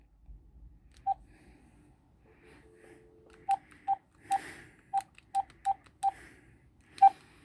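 A phone dials a call to the police department, a string of short, clear keypad tones in an uneven sequence, close and fairly quiet with no talk.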